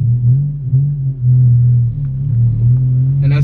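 A manual-transmission car pulling away in first gear as the clutch is let out and gas is added, giving a steady, close, low engine drone with a slight dip near the start and no talk.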